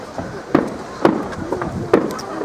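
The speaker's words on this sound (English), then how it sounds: "Fireworks." Fireworks at a bank holiday display on Clacton Pier, heard as a few sharp, fairly close bangs and crackles at irregular intervals, with people murmuring nearby.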